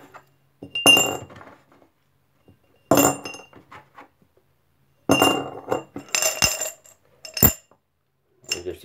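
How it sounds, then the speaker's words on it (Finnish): Handfuls of metal coins tossed into a glass bowl, landing in several separate bursts of bright clinking and jingling with quiet pauses between, close and crisp, with a few sharp single clinks. "Viskataan nyt tänne lasikippoon."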